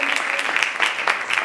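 A church congregation claps together in a dense, continuous burst of applause, loud and close, with a voice speaking faintly underneath.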